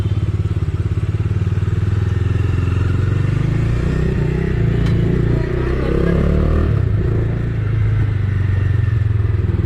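A Bajaj Dominar 250 BS6 motorcycle ridden in first gear gives a loud, steady low engine drone with some clatter and a slight rise and dip in revs, close to the listener throughout.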